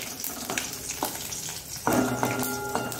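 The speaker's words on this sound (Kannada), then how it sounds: "ಸಾಸಿವೆ ಸಿಡಿಯುವಾಗ ಇಲ್ಲಿ ನೋಡಿ, ಗುದ್ದಿಟ್ಟುಕೊಂಡಂತಹ ಈ 10 ಬೆಳ್ಳುಳ್ಳಿಯನ್ನು ಹಾಕ್ತಿದ್ದೇನೆ." Crushed garlic drops into spluttering mustard seeds in hot oil for Mangalore rasam, with scattered pops and crackles and then a sudden, louder sizzle that holds steady close by.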